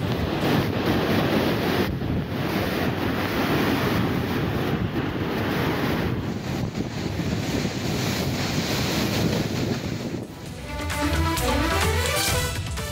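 Strong wind and pounding surf from a hurricane striking Cuba roar continuously, loud wind buffeting the microphone over crashing waves, easing briefly near the end before rising again.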